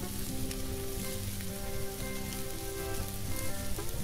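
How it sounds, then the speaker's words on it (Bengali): Onions, about three medium ones, sizzle loudly in plenty of hot mustard oil, a dense, steady crackling hiss that fills the whole stretch with no voices. "তেল গরম হয়ে গেছে, দিয়ে দিলাম বেশি করে, এখানে প্রায় 3টা মাঝারি সাইজের পেঁয়াজ আছে।"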